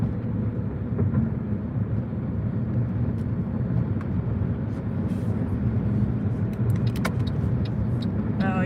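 A car cruises along a highway with a steady, loud engine and road roar throughout, plus a few faint clicks and rattles near the end.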